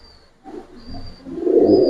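Cooing from a red-necked racer pigeon in a seller's loft, low soft murmurs near and fairly quiet that swell louder toward the end, with a thin high background tone and no talk.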